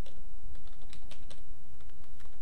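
Typing on a computer keyboard while designing a wedding invitation in Photoshop: scattered, close clicks of individual keys in an irregular rhythm over a faint background hiss, with no speech.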